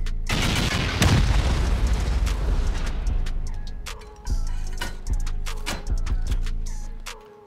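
Rocket explosions in a base-raiding video game: a dense roar of heavy blasts fills the first four seconds, then several separate booms land at a steady rhythm, each fading with a long rumbling tail, loud and with no talking.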